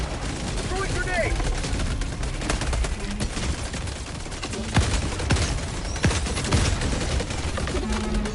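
Rapid machine gun turret fire and grenade explosions from the video game Helldivers 2, in a dense, continuous barrage of shots and blasts in a battle against the Illuminate.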